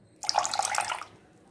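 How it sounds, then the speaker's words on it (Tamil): A light stream of water poured into millet crepe batter gives a soft, close splashing trickle lasting under a second, then stops, with no talking over it. "நான் இப்போ தண்ணி லைட்டாக"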